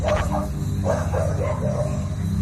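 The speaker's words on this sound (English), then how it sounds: "The dogs are going bonkers all around this area." Dogs barking across a rural country town area, several sharp barks spaced unevenly over a steady background rumble, moderately distant rather than right beside the listener.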